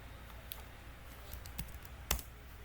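Quick typing on a computer keyboard while entering a Python pip install command, soft clicks with a few sharper keystrokes, close and fairly quiet, no talking.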